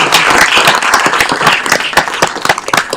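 In a city council meeting room, an audience claps for newly appointed board members: close, loud, dense clapping with sharp individual hand claps standing out, slightly thinning toward the end.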